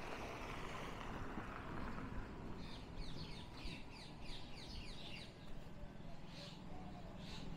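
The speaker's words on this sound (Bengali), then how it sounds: "আশেপাশে শুনতেই পাচ্ছ কত পাখির আওয়াজ।" Small birds chirp and twitter in quick repeated bursts around a forest tourism property in the Dooars, faint and distant over a steady broadband background hiss.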